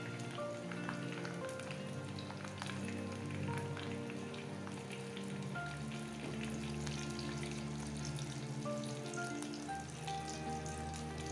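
Spring rolls frying in hot oil over medium heat, with a continuous soft crackling sizzle and scattered small pops, a low hum underneath and no talk.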